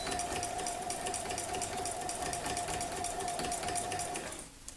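A sewing machine stitching steadily at speed during free motion quilting, a close, fast, continuous mechanical whir and needle rattle that stops abruptly at the end.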